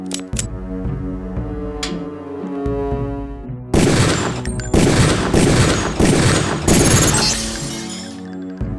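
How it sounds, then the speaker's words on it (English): Pistol shots fired at practice targets in the video game Deus Ex, a loud run of sharp cracks mixed with shattering impacts as a target breaks apart, following quieter clicks and tones. "Release the first target and take a few shots with one of the pistols until it is destroyed"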